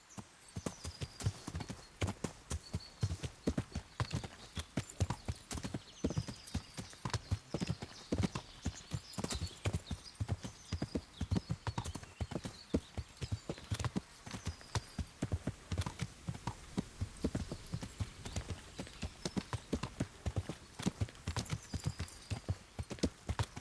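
Horse hooves clip-clop steadily as a horse is ridden in the video game Kingdom Come: Deliverance. The rapid, even beat continues throughout, moderately close, with no talk over it.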